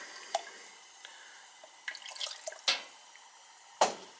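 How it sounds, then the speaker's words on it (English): A little water poured into a baking dish of stuffed green peppers: a few faint, scattered drips and small splashes spread over about four seconds in a quiet kitchen, with the last two splashes a bit louder. "I'm gonna add a little bit of water in there just to keep a little bit of moisture in the bottom."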